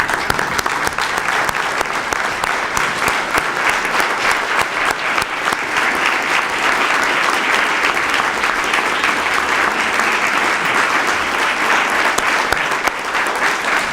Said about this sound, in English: everybody stand up and give these kids a round of applause